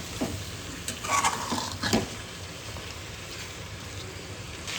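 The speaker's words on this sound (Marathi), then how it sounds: "मासे फ्राय करून घेतोय मसाल्यात आधी" Freshly caught fish frying in a masala coating in a pan, a steady sizzle with a few louder bursts of stirring and scraping early on, then a calmer even fry.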